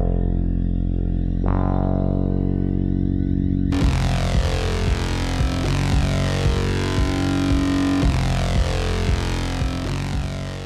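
A synthesizer run through effects units and guitar pedals: a thin tone shifts abruptly into a dense, distorted, heavily processed texture with gritty pulses, loud and continuous throughout with no speech.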